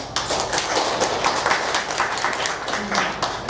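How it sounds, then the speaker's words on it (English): Steady applause from a crowd at a Hakka conference at York University, Toronto, dense overlapping claps filling the whole stretch at an even, moderate level. "a round of applause for them"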